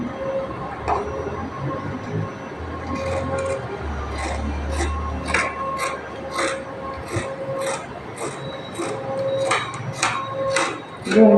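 Scissors snip repeatedly through blouse fabric for a princess-cut pattern, each cut a sharp click in a steady, evenly spaced rhythm over a low room hum.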